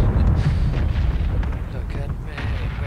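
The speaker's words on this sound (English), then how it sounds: "If the artillery don't get us." Artillery shells explode in PUBG with deep, rumbling booms that roll one into the next, heavy and close, leaving a lingering low rumble between blasts.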